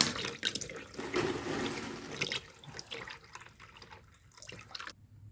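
Water dribbling and draining out of the oil pan of a stuck, neglected 327 engine, a wet splattering trickle that is loudest early on and then thins into irregular drips before stopping.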